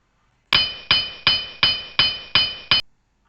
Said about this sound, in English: So I chose the hammer sound from here.